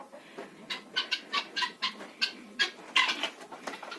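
Several chickens clucking near and close as they come out of their coop, a quick uneven series of short clucks and squawky calls filling the clip, no human voices.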